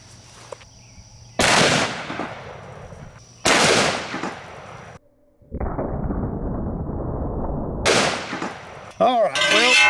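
Desert Eagle .50 AE pistol shots against a steel target outdoors, several sharp loud cracks separated by pauses, with a sustained noisy stretch and rapid clattering bursts toward the end.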